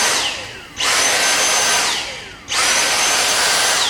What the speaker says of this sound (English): got my Dyson vacuum here, and just run it around like this